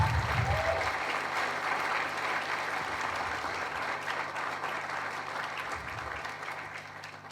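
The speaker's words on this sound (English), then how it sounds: "Please give them a round of applause." Sustained applause from the audience at a Form 5 graduation ceremony at Waterford Kamhlaba UWCSA, a dense clapping wash that holds steady and fades slightly toward the end.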